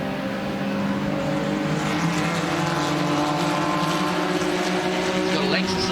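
Vintage race cars lapping the Mid-Ohio track during an SVRA race make a continuous, fairly distant engine drone with layered tones, while a commentator talks over it throughout.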